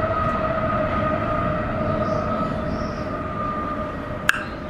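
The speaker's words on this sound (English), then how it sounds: "Look at the train." A train passes near the Las Vegas Strip with a steady, droning tonal hum that holds evenly throughout, ending with one sharp click near the close.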